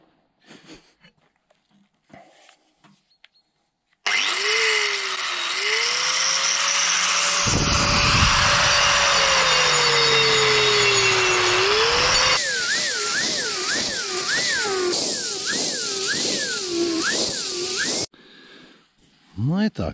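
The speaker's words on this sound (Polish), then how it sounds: "Zobaczymy zaraz tą szlifierką." A loud, steady angle-grinder whine grinding against wood, running continuously for several seconds with a harsher, pulsing stretch near the end, and brief quiet before and after.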